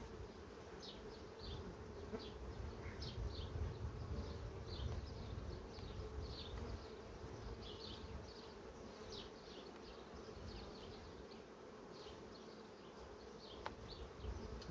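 Honey bees of a production colony buzz around beehive frames in a stationary apiary, a dense, steady hum of many insects close by, with individual bees flying past, no talk.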